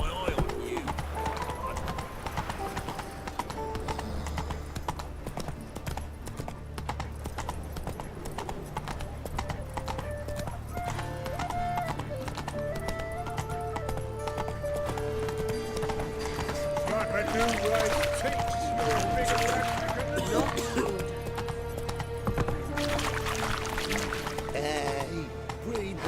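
Horse galloping in the video game Witcher 3: steady clip-clop hoofbeats run throughout, loud and close, under game music with occasional voices.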